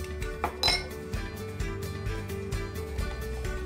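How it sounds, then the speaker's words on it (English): A utensil stirs banana bread batter in a bowl, giving a run of light, quick clinks and taps against the bowl's side at close range, with no talking. "Stir to mix."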